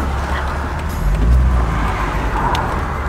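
A 2001 Chevrolet Corvette Convertible cruises along a road on a hot day, its engine and tyre rumble a continuous loud drone with a slight swell midway.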